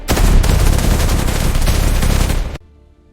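Dense automatic gunfire sound effect in a dramatized police and army story, loud rapid bursts overlapping into a sustained fusillade that cuts off abruptly near the end, leaving faint background.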